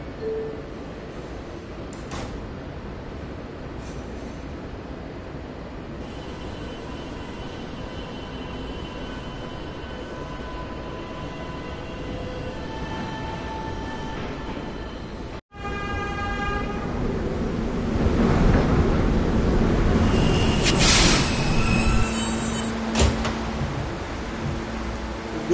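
A New York subway train at the 57th Street station, with steady rumbling station ambience, a sharp break, then a louder train arrival with brake squeals and tonal whines near the end.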